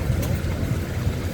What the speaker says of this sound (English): This is a two-cylinder steam engine.